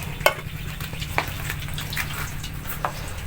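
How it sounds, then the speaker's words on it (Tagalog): Food frying in a pan, a steady close sizzle and hiss with a few sharp pops and spatters scattered through, no talking. "pinipirito natin."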